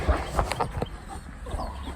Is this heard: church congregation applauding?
no